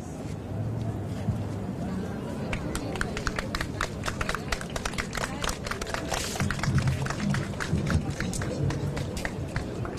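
An audience applauds children after their performance, with a scattered patter of claps over a murmuring crowd and people talking, rising slightly toward the middle and staying moderate in volume.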